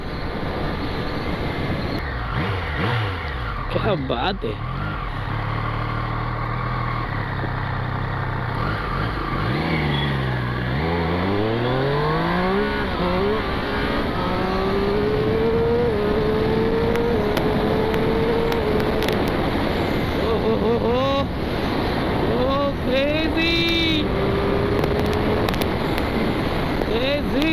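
A loud superbike engine accelerates hard, its pitch climbing and dropping with each gear shift, wind roaring throughout, while a voice speaks briefly.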